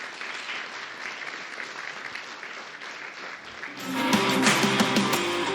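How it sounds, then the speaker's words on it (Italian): Studio audience applause on an Italian sports TV broadcast, a steady wash of clapping that swells louder near the end as music comes in under it. "quindi un applauso di nuovo."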